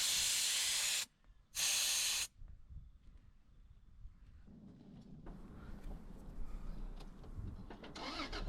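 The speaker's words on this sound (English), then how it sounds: "I've got to drop the tyre pressures down to 25" Air hisses from a four-wheel-drive tyre as its pressure is let down for a snowy high-country track, two loud steady bursts of spray close by, then a quieter rumbling background.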